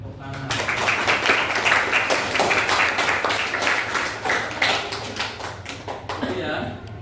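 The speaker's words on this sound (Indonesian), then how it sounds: "Terima kasih, tepuk tangan." Audience applause breaks out at a motivational talk on resilience, a dense crowd of clapping that starts abruptly, holds loud and fairly even for several seconds, then thins out at the end.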